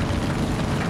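Brief burst of a plane's engine droning in flight in Far Cry 5, a loud, steady low rumble with no talking.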